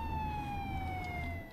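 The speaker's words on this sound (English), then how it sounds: "I began to hear police sirens." Police car sirens wailing at a distance, a steady, slowly falling tone that stays faint over a low traffic rumble, with no talking.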